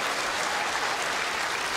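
Spectators at the World Indoor Bowls Championships applaud a bowls shot, a loud, dense, unbroken wash of many hands clapping at once, steady throughout with no voices standing out.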